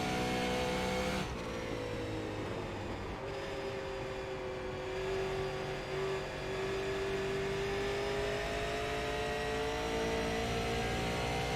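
Race car engines in a NASCAR Daytona racing game drone steadily and loudly, with rising and falling engine pitch as cars run close together, one approaching from behind, continuous throughout with no talking.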